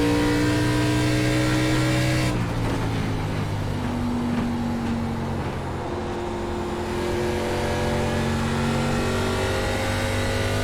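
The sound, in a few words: race car engine revving in iRacing video game, Phoenix Raceway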